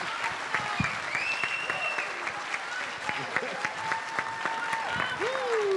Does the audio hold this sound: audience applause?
yes